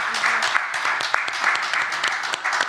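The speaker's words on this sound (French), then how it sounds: "Alors, joignez-vous à moi pour l'applaudir." An audience at a conference on Haitian civil society applauds the moderator, giving a fairly light, uneven round of clapping with some individual claps standing out, with no speech.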